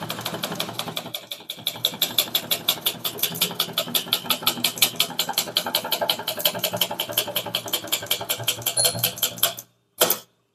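A typewriter types out a Tamil-language statement with rapid, steady keystrokes that run continuously for about ten seconds. A brief pause comes near the end, then a final short burst of keys.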